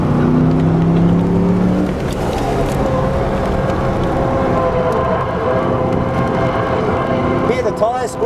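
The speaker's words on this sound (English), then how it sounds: "Hear the tyre squeal?" Monaro car on a race track at a track day with low tyre pressures, engine droning loud and steady throughout, with high tonal tyre squeal whining in over the engine noise near the end.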